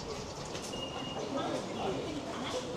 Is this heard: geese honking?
no